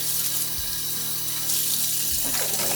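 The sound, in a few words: rinsing goose meat under running tap water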